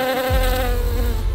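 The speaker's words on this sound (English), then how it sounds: "That tiny buzz you hear in your garden" A pollinating insect buzzing in a garden, a steady close droning hum that holds loud and unbroken throughout, with no voices.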